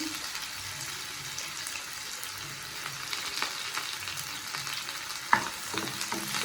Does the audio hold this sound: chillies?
yes